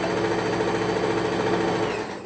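A sewing machine stitches churidar fabric with a continuous, rapid whirring clatter, close and even throughout, easing off slightly at the very end.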